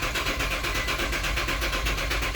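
Nissan Pathfinder engine running steadily as gas is given, a continuous close mechanical rumble with a faint rhythmic pulse, loud and unbroken with no voices.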